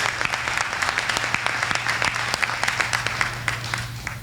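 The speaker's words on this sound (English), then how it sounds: "How about another big round of applause for all of our 10-year service award recipients?" A dinner crowd gives a sustained round of applause for sheriff's office ten-year service award recipients, even continuous clapping from many hands filling the room, with a low steady hum underneath.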